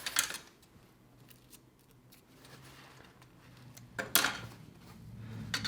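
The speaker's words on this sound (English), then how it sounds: "Trim your ends off." Scissors snipping the loose thread ends after stitching an invisible zipper into fabric, a couple of quick close cuts at the start and near the end with quiet handling between.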